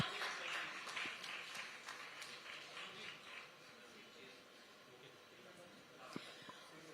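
A crowd at a Lucknow conclave applauds to welcome a minister. The clapping is dense but faint at first, then thins out and fades, with scattered claps near the end and a voice in the room.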